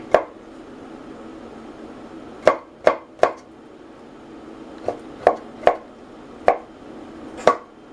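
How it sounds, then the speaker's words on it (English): A knife chopping the hard stems of cooked broccoli on a cutting board, about ten crisp separate chops at an uneven pace, close and clear against a quiet background. "this part that is harder, we chop finely"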